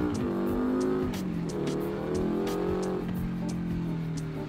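A car engine revs and pulls steadily under acceleration in BeamNG.drive career mode, a continuous droning tone rising and holding loud throughout, with faint clicks above.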